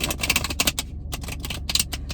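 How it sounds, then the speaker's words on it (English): Tarot cards riffle shuffled inside a car, a run of quick crisp fluttering bursts with short pauses between them, close and fairly loud over a low steady cabin rumble. "I am riffle shuffling in the car."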